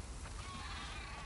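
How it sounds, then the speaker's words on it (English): Sheep bleat faintly in The Last of Us Part II, a short wavering call set against a steady background wash, with no talking. "We definitely have way too many sheep."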